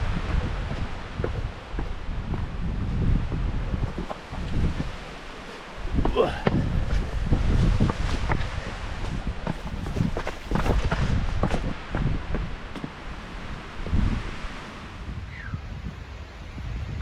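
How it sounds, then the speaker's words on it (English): Strong gusts roar across a steep mountain trail on the Appalachian Trail, a loud, steady buffeting that surges and swells, with crunching footsteps, rustling and a voice speaking through it. "Oh, wind coming through here is something else."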